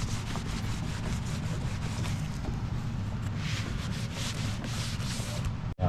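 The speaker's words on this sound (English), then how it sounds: "Doing a little wet sanding to see if that makes much of a difference." Wet sanding on a tractor panel during a cheap John Deere rebuild, a steady, close rubbing hiss with faint repetitive strokes, quiet and continuous, ending in a brief knock.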